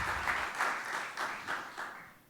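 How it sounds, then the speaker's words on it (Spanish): A church congregation applauding during a Spanish-language service, clapping in rhythmic waves that swell and fade over a couple of seconds. "Denle un fuerte aplauso a Dios"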